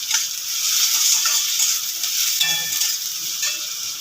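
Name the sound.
onion and tomato frying in pan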